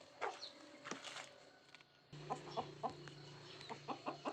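Chickens kept as poultry, some sick with swollen faces and eyes, cluck repeatedly in short, close bursts, with a brief lull before steady clucking resumes.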